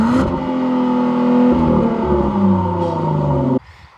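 A 2025 Genesis GV80 Coupe engine revs up loud and close, its pitch climbing and holding in a smooth, sustained roar before cutting off abruptly near the end.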